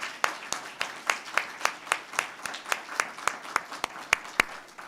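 An audience at a forum applauds, a run of sharp, evenly spaced claps at close range that sound like a small crowd or a few people clapping steadily, with no talk over it.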